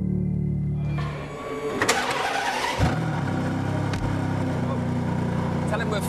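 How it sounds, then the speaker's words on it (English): A Ferrari's 6-litre V12 fires up from the start button and revs, a loud engine roar with a sharp burst at ignition that settles into a steady rumble, heard close by with some talk over it. "Big start button to fire up that 6-litre V12"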